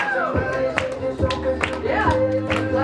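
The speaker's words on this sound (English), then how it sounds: "Who's clapping their hands?" Hands clap in a sales meeting room, about half a dozen sharp claps at a fairly steady pace over a background of sustained tones.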